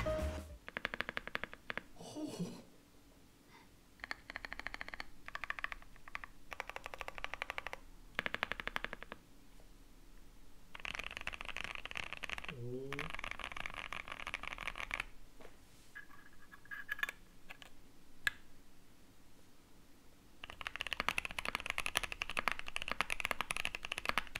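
Bursts of fast typing on a foam-modded mechanical keyboard with muted, deep keystrokes, coming in several runs separated by short pauses, fairly close and moderately loud.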